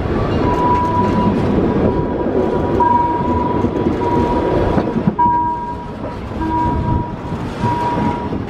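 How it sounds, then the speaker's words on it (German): A narrow-gauge Weißeritztalbahn train rolls into Dippoldiswalde station, a steady loud rumble of wheels and carriages with a sustained tonal squeal or hum running throughout, briefly dipping midway before resuming. "Mit der Einfahrt in den Bahnhof Diepoldiswalde endet die Fahrt über das untere Teilstück der Weißeritztalbahn."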